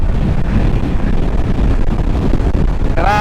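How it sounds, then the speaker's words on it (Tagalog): Strong, steady wind roars across the microphone during a motorcycle ride on a rainy mountain road, a loud continuous low rumble filling the whole stretch, with a faint tonal whine near the end. "Grabe, pati hangin lumalakas."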